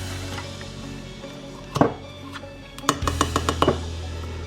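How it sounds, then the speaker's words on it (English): A spoon scraping and clinking inside a mug of cake batter, a few scrapes followed by a quick run of sharp taps against the mug, close and clear with no speech. "So scrape your spoon down."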